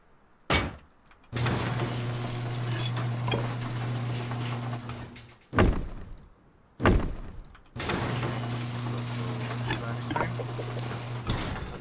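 A garage door is placed in the Rust video game, with sharp slamming thuds and a sliding metallic rumble followed by steady mechanical humming, the sequence repeating a few times.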